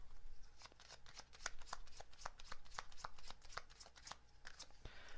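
Message cards are shuffled close by in a quiet room, with a steady run of crisp riffling flicks and slaps lasting several seconds and no talking.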